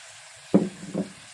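Sliced snake gourd fries in a pan while being stirred, a faint low sizzle broken by two distinct scraping strokes of the spatula.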